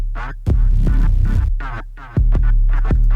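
A grime bass runs through a phaser, giving a throbbing, swirling movement over a thick low end, broken by a few sharp percussive hits and played loud with no talking.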